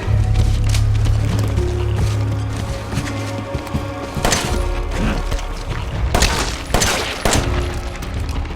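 Gunfire aimed at a boss in Resident Evil 7, heard as dense bursts of shots and heavy thuds over a low droning game soundscape, with sharper blasts clustering near the end.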